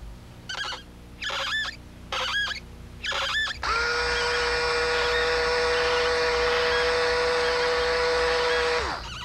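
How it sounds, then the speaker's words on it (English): A Skil Twist cordless power screwdriver gives a few short whirring bursts, then a steady, loud, high electric motor whine that runs for several seconds before cutting off, as heard in a 1980s TV commercial. "The Skill Twist Cordless Power Screwdriver."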